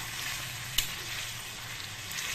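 Cauliflower frying in oil in a pan while a fish curry is being prepared gives a steady, close sizzle that runs throughout, with one brief sharp knock partway through and no voices.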